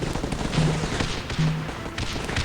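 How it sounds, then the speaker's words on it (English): A called-in missile strike in the mobile war game Guns UP! lands as a burst of sharp explosive cracks and rumbling blasts, dense and close, with game noise underneath. "I did call in a missile"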